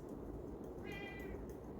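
A pet kitty cat gives a single faint meow in a kitchen where smoked salmon is being prepared, rising briefly over steady background room noise.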